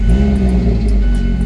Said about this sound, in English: Let's hear that startup.